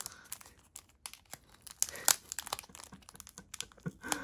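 A trading card pack is torn and crinkled open at close range, with sharp rustling and ripping bursts of foil wrapper in an uneven rhythm, quiet and intimate with no clear talk.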